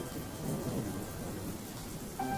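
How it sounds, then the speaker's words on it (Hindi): Rain coming down steadily with a low rumble of thunder underneath, as a storm suddenly breaks over farm fields; a continuous, fairly loud wash of sound with no voices. "अरे ये क्या, बारिश शुरू हो गई।"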